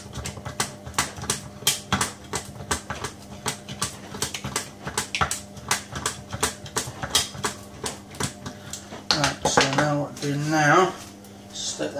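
A knife cuts around the edge of a homemade fish pie dish in a home kitchen, giving a rapid series of sharp clicks and scrapes close by, with a brief clatter of crockery near the end.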